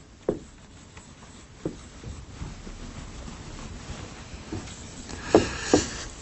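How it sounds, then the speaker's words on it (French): A pen writes large letters by hand on a board or paper, giving faint scratching strokes with several sharper taps spaced irregularly against quiet room noise. "J'écris gros, hein."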